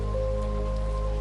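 Rain patters steadily on a cabin roof overhead, an even, continuous wash with a low droning hum underneath.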